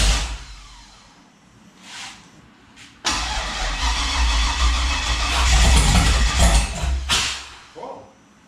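The turbocharged 5.3 LS engine in a Mustang build cranks over. It starts with a couple of short tries, then a long, loud, rumbling churn that carries on for several seconds, close up, with voices faintly around it.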